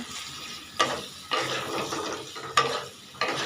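Curry with onion and green chili paste frying in a pan, several rhythmic scraping stirs, each a short rasping burst over a low sizzle, close and moderately loud with no talking.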